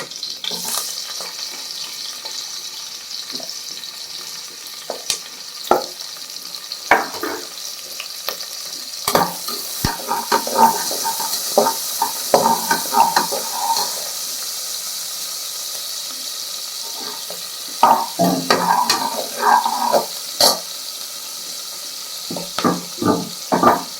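Onions and cinnamon frying in a pan for tomato rice, with a steady hiss of oil and intermittent bursts of stirring and scraping that grow busier toward the middle and end, with no talking.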